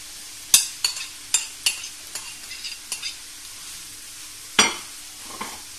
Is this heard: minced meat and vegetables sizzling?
yes